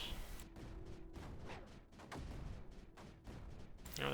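Mortar and cannon fire in the video game Creeper World 4, a steady series of short, soft thumping shots repeating at irregular intervals, faint and somewhat distant.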